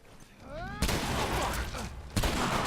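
Gunfire headshot in The Last of Us, heard as two loud, sharp shots about a second and a half apart, over a noisy background with a brief rising whine before the first.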